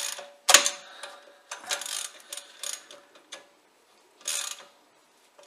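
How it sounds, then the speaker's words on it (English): A 17 mm spanner working the brake caliper bolt on a Land Rover Discovery 3/4 front brake, giving bursts of ratcheting metallic clicks separated by short pauses, close and fairly loud. "What size of spanner, Ian?"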